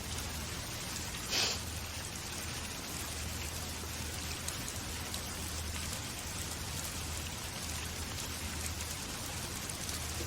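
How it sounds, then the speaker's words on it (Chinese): Steady rain patters down continuously, a soft broadband hiss with a low hum underneath and one brief sniff-like noise early on. "听着雨声睡挺舒服的。"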